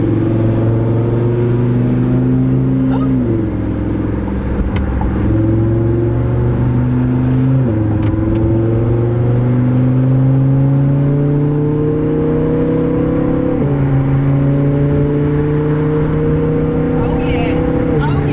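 A Lamborghini engine hums loudly from inside the car, climbing steadily in pitch through the gears, with abrupt drops and jumps at each downshift. Voices talk over it now and then.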